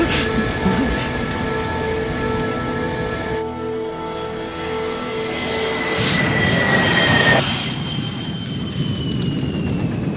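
An Avro Arrow jet fighter roars loud and near through a high-speed 2G turn at Mach 1.5, its engine noise shifting in pitch with whining tones and a heavy rumbling wash.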